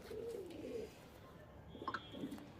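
A pigeon coos in a loft of Malbai and Madras birds, two soft rolling phrases close by, followed by a short higher chirp and another low coo against quiet room noise.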